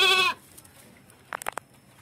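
A goat with the skin condition broyongan gives one loud, short bleat right at the start, followed by faint scattered knocks and rustles nearby.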